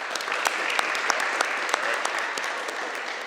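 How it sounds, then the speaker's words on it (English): An audience applauds at a middle school honor society induction ceremony in a school gym: steady, dense clapping that fills the room, with a few sharper individual claps standing out. No one speaks over it. "please give a round of applause for your support system that's here for you tonight."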